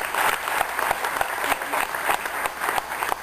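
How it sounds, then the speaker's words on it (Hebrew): Applause for a speaker at a company stage event, dense steady clapping from an audience that carries evenly through the whole stretch. "מגיע לו מחיאות כפיים."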